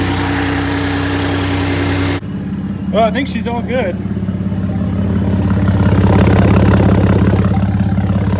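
A Ford F150 pickup's 3.5L EcoBoost twin-turbo V6 with upgraded turbos idles steadily nearby with a low rumbling drone, burning junk off, while someone says a few words, then the idle grows slightly louder.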